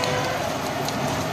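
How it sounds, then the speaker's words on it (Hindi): Heavy rain falling outdoors in Pakistan, a steady, unbroken hiss of moderate loudness with no talk over it. "वैसे तेज़ बारिश हो रही है"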